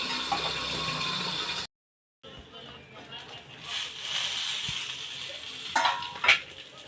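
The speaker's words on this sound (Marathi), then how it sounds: "अगदी मंद आचेवरच छान मिरच्या आपल्याला शिजवून घ्यायच्या आहे" Green chillies frying in a covered pan over a low flame give a steady soft sizzle, with a few clinks of utensils against the pan. A person talks over the cooking sound throughout.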